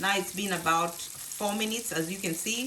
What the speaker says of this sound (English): That sound you're hearing, those are the burgers cooking